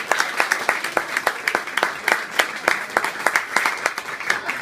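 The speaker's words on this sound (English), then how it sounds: "Let's have a nice round of applause for her." Wedding guests applaud for the bride, Faith, with a moderate patter of hand claps that stays fairly close and steady throughout.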